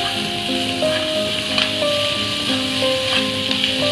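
Capsicum and onion sautéing in a pan for vegetable Manchurian gravy, a steady soft sizzle running throughout with light tonal background hum and occasional faint knocks.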